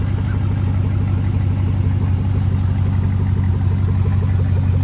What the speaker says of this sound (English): You can hear it running, dual exhaust.